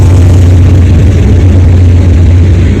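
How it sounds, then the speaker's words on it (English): A freight train locomotive runs with a helper engine placed mid-train, hauling a long, heavy coal train; a steady, loud low diesel drone and rumble fills the whole stretch without any talking. "Engine in the middle of the train."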